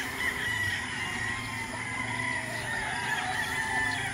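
A gamefowl rooster crows at a breeding farm, its call carried over a dense, steady backdrop of other fowl clucking, fairly loud and with no talk.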